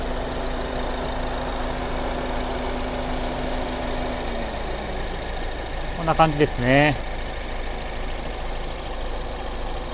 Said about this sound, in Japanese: 通常よくあるミニのエンジン音という感じです。